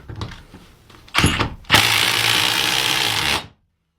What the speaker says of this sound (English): let's see if Milwaukee can drive into 3/8 into concrete